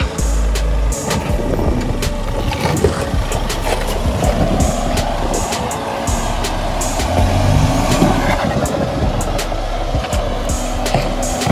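Mahindra Scorpio and Thar 4x4 off-road vehicles driving on rough extreme off-road terrain, engines rumbling low and steady with crunching, rattling tyre and ground noise and scattered clicks throughout.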